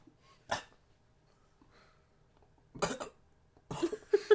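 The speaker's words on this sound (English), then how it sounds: "We gotta do the children's cough." A video game emote plays a child's cough as a few short, sharp coughing bursts separated by quiet gaps, with faint background sounds between them.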